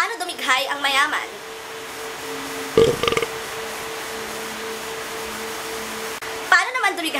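A voice imitates a rich person's burp: a short, soft, restrained belch between stretches of talk, set over a steady background hum.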